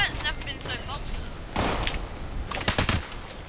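Gunfire and explosions from a busy event in the video game Fallout 76 come as a few sharp bursts and rattling shots, heard under and between a person's talking.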